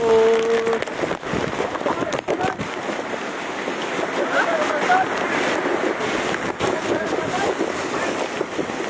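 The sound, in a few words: strong wind and rain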